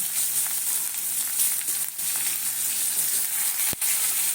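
Eggplant pieces frying in hot oil with whole cumin seeds and chili, a steady close sizzle with faint crackles and a brief stir near the end.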